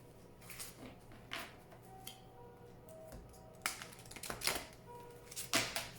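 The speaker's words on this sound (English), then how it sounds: "Please think of your question as I shuffle the cards." Oracle cards being shuffled by hand, a series of soft, quick riffling and tapping bursts close by and faint, with no talking.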